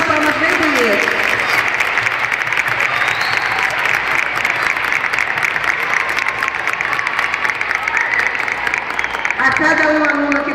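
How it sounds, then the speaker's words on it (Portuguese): Loud, sustained applause from the audience at a Proerd graduation ceremony, the clapping continuous and close, with people talking and calling out over it. "Uma salva de palmas bem bonita."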